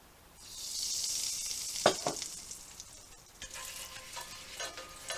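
Butter dropped into a hot pan for a Southern-style crunch wrap of potatoes, beans and meat, a close hiss that swells quickly, then a couple of sharp scrapes and a gentler crackle, with no talk.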